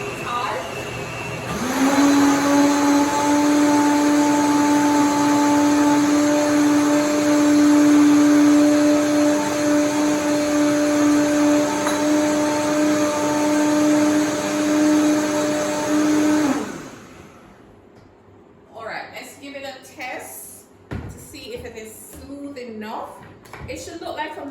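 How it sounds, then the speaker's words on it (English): A blender whirs steadily at close range for about fifteen seconds, pureeing a beetroot tart mixture until smooth, with a strong constant motor hum. The motor then cuts off and a voice talks in the quieter remainder. "we're going to process it in the blender like about 3 times so that it is nice and smooth"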